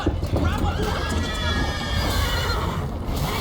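A horse neighs and gallops in The Witcher 3: Wild Hunt. Rapid hoof clip-clops and a loud whinny sit close up under excited talk and game music.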